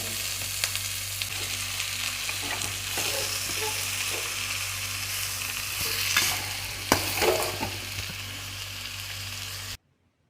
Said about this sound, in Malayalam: ഉള്ളി വഴറ്റാൻ നന്ദുവിനെ ആക്കിയിട്ടുണ്ട്